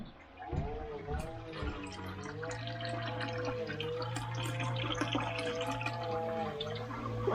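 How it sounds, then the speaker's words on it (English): A toilet cistern refills after a flush, a steady rushing, hissing inflow with a faint whining tone underneath, close and continuous throughout. "I can tell by the pressure of the water that's filling that cistern"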